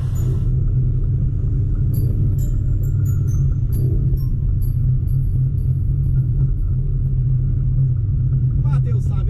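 A Volkswagen Saveiro pickup drifting at night, its engine droning in a loud, steady low rumble throughout, with faint tire squeal and brief higher tones over the top; people talk close by.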